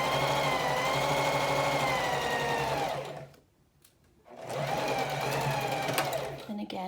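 A sewing machine back tacks over elastic on a fabric mask with a loud, steady mechanical whir. The motor stops briefly midway, then starts again and runs on. No words are spoken.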